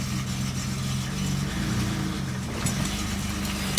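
A BMW car engine runs steadily at a low idle, a close, continuous mechanical rumble that holds an even level with no talking over it.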